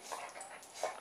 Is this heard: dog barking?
yes